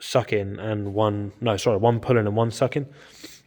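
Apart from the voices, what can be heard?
No everyday noise stands out behind the speech.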